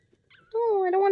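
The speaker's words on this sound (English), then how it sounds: "I don't want to hear crying puppy in my ears" A puppy whimpers in the Never Alone video game, a brief high, wavering whine rising out of near silence and holding steady for about a second, close and fairly loud.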